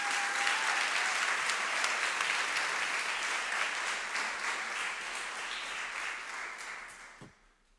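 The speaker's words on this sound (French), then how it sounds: "Et encore un petit tour d'applaudissements pour eux" Sustained audience applause at a product keynote for a health company, a dense steady wash of many hands clapping that fades out toward the end, with no talking over it.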